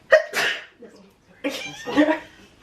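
A sharp sneeze bursts out near the mic, followed by a second, similar explosive burst of breath a moment later, with brief quiet between.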